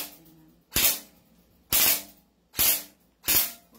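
An M4A1 carbine replica fires four sharp, loud shots at roughly one-second intervals, each a crisp crack with a short hissing tail, alone with no talk.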